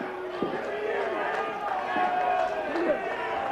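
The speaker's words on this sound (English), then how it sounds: "Listen to the people booing" Wrestling crowd in a Dallas arena booing, a steady, dense roar of many voices filling the space with sustained disapproval throughout.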